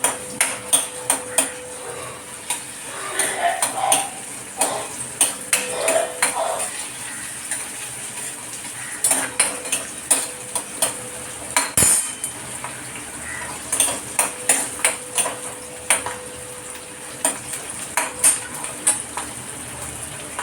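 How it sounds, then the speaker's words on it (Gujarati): Capsicum sautés in oil in a pan over a medium gas flame, with a spoon repeatedly scraping and clinking against the metal pan above a faint, light sizzle, close and uneven in rhythm. "આ મેં તેલમાં એને સોતે કરીને પછી કરું છું, મીડિયમ ગેસ ઉપર."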